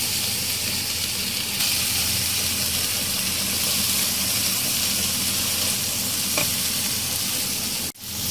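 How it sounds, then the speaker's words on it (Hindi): Masala frying in oil in a pan for egg korma, a loud continuous sizzle and hiss that holds steady and ends with a sharp knock near the close. "अब इस मसाले को हम 2 से 3 मिनट तक भूनेंगे अच्छी तरह।"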